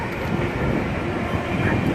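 A train passes nearby outdoors, a steady broadband rumble and rolling roar with no clear breaks, loud and continuous throughout.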